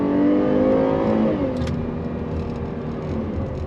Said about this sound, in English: on throttle from a dead stop, all-wheel drive,